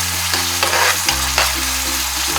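Food fries and is stirred in a pan while Ethiopian firfir is cooked. A steady sizzle runs throughout, with repeated scraping strokes of stirring and a continuous tonal background, and no talking.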